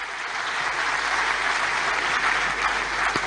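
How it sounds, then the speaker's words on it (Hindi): Children and adults at an Independence Day class on the history of the tricolour flag with the Madhya Pradesh chief minister in Bhopal clap for a child's question, an even, moderately loud round of applause. "तालियां बजाएं इस प्रश्न पे।"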